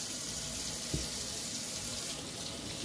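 Tap water runs steadily into a sink while crappie fish are rinsed off, a close, continuous splashing gush with no pauses.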